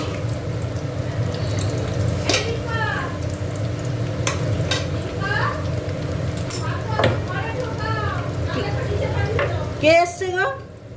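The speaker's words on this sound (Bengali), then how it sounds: "এখানে ঘিটা গরম করে নিয়েছি, নিয়ে এবার এই পেঁয়াজ, ক্যাপসিকাম আর টমেটোটা একটু নেড়ে নেবো।" Onion, capsicum and tomato stir-fry in hot ghee with a steady sizzle, while a spoon repeatedly scrapes and knocks against the pan; a voice speaks over the cooking at times.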